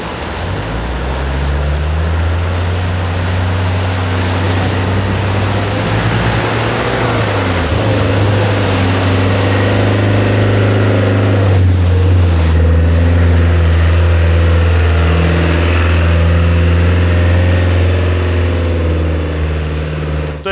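A Tarpan Honker off-road vehicle, one of the last built in Lublin by DZT, runs with its ADCR engine. It gives a loud, steady low drone whose pitch drops and climbs as it revs, with rushing wind-like noise throughout.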